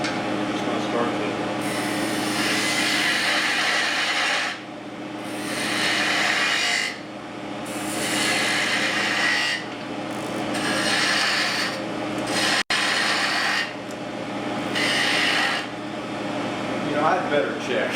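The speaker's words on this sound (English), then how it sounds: "Change over to my spindle gouge for the detail work." A spindle gouge cuts a wooden goblet spinning on a lathe, giving a continuous close rasping scrape that swells and eases in repeated passes.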